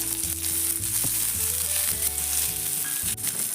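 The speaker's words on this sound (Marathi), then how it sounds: "तेल टाकले की लसूण भाजून घ्यायचं आहे।" Garlic fries in oil in a pan for coconut chutney, giving a steady, close sizzle that runs throughout alongside a stepped melodic tune.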